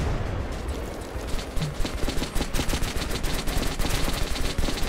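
Rapid weapon fire in the video game Metro Last Light Redux, a dense, loud stream of gunshots building into steady bursts of automatic fire with no talking.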